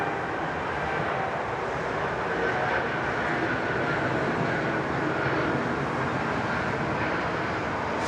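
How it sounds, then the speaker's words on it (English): An Air India airliner departing Sydney Airport gives a continuous broad jet roar, steady and moderately loud from a distance, filling the whole stretch without pause. "Beautiful Air India, nice lean departure there."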